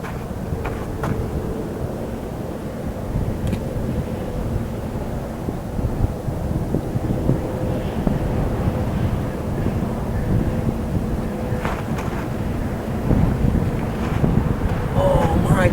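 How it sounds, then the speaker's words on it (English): Strong outflow wind from an approaching haboob dust storm with severe thunderstorms in the desert near Desert Center, California, roars and buffets the microphone steadily, building louder toward the end with no talk over it. "The outflow wind is starting to pick up. I might be about to get hit."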